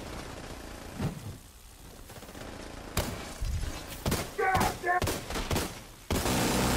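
Video game gunfire comes as sharp bursts of rapid shots and heavy thuds, irregular and loud, with short quieter gaps between volleys.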